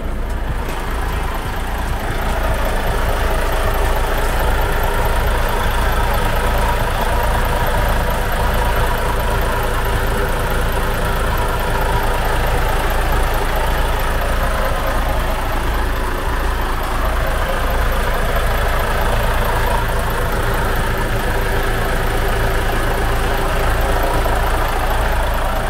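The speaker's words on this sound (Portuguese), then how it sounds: "o nível de ruído, ou quase nenhum ruído, desse motor Euro 6 da Volvo" A Volvo Euro 6 engine in a Busscar Vissta Buss NB1 bus idles with a steady low rumble and hum, continuous and even throughout with no talking.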